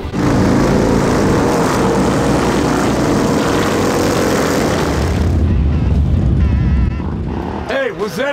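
A group of motorcycles riding together in formation roars past in a loud, steady engine drone that fades and thins toward the end, with a voice speaking briefly in the last seconds.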